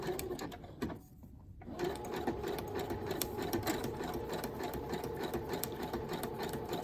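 Sewing machine running continuously as it stitches around the outside edge of fabric, a quiet, steady rapid chatter with one brief pause early on.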